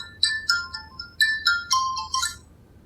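A phone rings in a scene from a drama, sounding as repeated bright electronic tone bursts in a quick chirping pattern, fairly close and clear, with no one talking over it.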